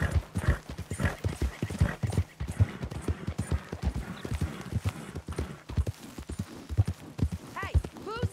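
A horse in Red Dead Redemption 2 trots with steady, rhythmic clip-clop hooves close by, accompanied by a short whinny near the end, while a person talks over the hoofbeats.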